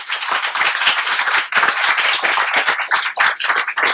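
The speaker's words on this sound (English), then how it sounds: "just give AJ a round of applause" An audience claps for speaker AJ Leon at an evening talk, a dense, bright burst of many hands that stays loud and steady for several seconds with no voices over it.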